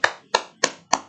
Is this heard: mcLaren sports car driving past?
no